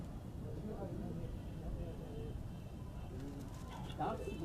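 Pigeons on a rooftop coo softly in low, rolling calls over a steady background hum, with a faint voice and some clinks near the end.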